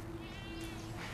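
A cat meows in a French-dubbed Animorphs episode, one drawn-out mewing call sounding close and fairly quiet over a faint steady background tone.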